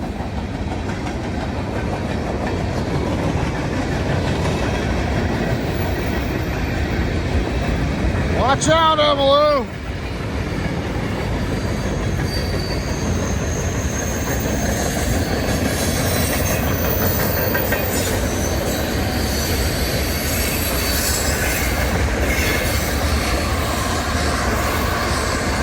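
A CSX freight train rumbles past with its brakes applied, a steady loud roll of wheels on rails broken by a brief high, wavering wheel squeal, while people talk nearby.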